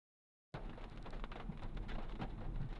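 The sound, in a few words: rain falling outside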